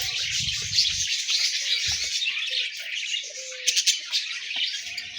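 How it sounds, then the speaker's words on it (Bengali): Birds chirp and tweet in a park, with bright, quick calls overlapping continuously at moderate loudness and a few sharper notes standing out near the end. "পাখির কিচিরমিচির ডাক"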